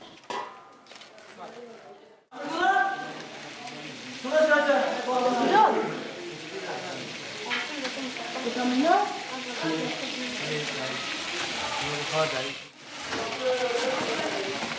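Tomato-paste water poured over rice in a hot pan, hissing and sizzling steadily beneath someone talking over it, with a quiet start before the pour.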